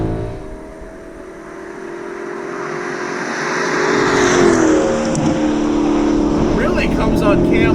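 An Alfa Romeo 8C Competizione engine revs hard and loud through a gear change, its roar dipping briefly and then climbing again, with someone talking over it.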